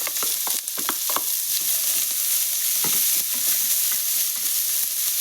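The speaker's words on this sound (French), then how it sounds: "on a fait chauffer mon faitout avec de l'huile. On va rajouter les oignons." Onions fry in hot oil in a cast pot for Japanese curry, giving a loud, continuous sizzle with a few crackles and stirring knocks early on, no talking.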